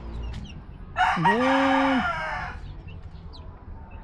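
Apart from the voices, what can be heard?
chicken clucking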